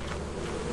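Bees from a hive in the video game Lethal Company buzz in a steady, dense drone, close and moderately loud without any voices.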